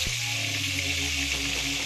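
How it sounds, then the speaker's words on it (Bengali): Fish fry in hot oil, giving a steady, dense sizzle that stays close and even throughout, with no talking. "একদিকে আমরা মাছটা ভেজে নিচ্ছি"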